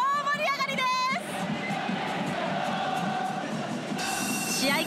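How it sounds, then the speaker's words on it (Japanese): Avispa Fukuoka supporters cheer as a large crowd at the National Stadium, a loud, continuous roar with shouts and rising calls, under a voice that talks over it. "試合開始前から声援で後押しするアビスパサポーター。"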